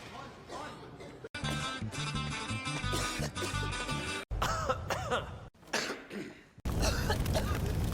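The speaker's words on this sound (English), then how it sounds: "I'm coughing because of dust." A run of movie-scene coughing fits blamed on dust, harsh repeated coughs and throat clearing from different characters cut together, loud and close, with short bits of speech between them.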